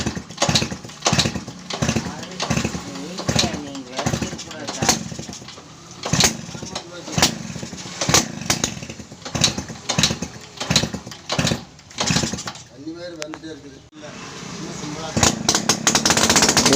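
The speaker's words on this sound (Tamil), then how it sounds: "ஆக்சுவலாக வண்டி ஸ்டார்ட் ஆகிடுச்சு" Small engine of a restored TVS XL Heavy Duty moped runs with a rapid, chugging putter, mostly steady with uneven surges. Someone talks over the engine throughout.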